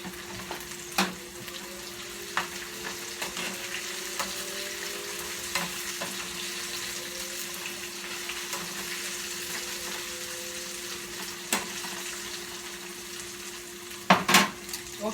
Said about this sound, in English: So I'm just letting that toast up real nicely.